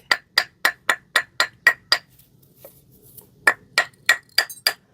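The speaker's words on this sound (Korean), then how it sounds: "이렇게 망치로 이렇게 두드리면은 화분도 안 깨지고 쏙 빠집니다." A hammer taps a ceramic flower pot in quick, regular knocks, a burst of about eight crisp hits, a short pause, then another run of sharp close taps.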